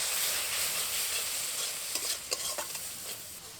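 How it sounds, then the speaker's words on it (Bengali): Spice masala for a Sundarbans crab curry fries in oil with a steady, soft sizzle, and a few scraping stirring strokes come in toward the end. "এবার এই মশলাগুলোকে খুব ভালো করে কষিয়ে নেব তেল ছাড়া পর্যন্ত।"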